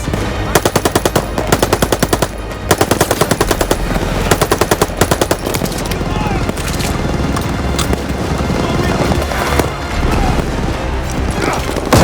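Rapid automatic machine gun fire in the World War II shooter Call of Duty: Vanguard, loud sustained bursts of close gunfire with short gaps, mixed with distant shots and battle noise.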